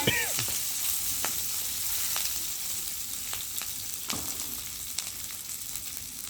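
Onion, garlic, green chili and curry leaves sauté in a pan with a bright continuous sizzle, punctuated by occasional spatula scrapes, close and steady with no voices.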